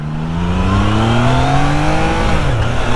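A 2023 Triumph Trident 660 three-cylinder motorcycle engine revs steadily, its pitch rising loud and close, then easing slightly toward the end with no voices.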